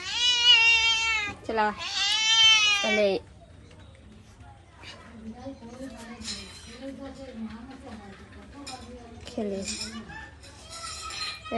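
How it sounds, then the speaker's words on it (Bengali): A cat meows loudly and close by in two long drawn-out calls, followed by quieter sounds as someone talks to it in a home. "বিড়ালটা রোজ আসে আমি ভাত দিয়েও খাই"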